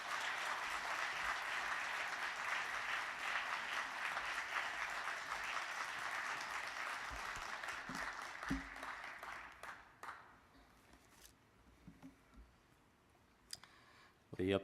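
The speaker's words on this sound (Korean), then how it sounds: "우리 등단하실 때 다시 뜨거운 박수로 맞이해 주시기 바랍니다." A church congregation applauds warmly at an early-morning special prayer service, a dense steady clapping lasting about ten seconds before thinning into scattered claps and quiet room sound.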